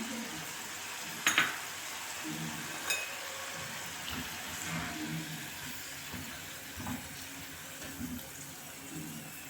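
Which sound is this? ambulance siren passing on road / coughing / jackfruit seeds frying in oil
jackfruit seeds frying in oil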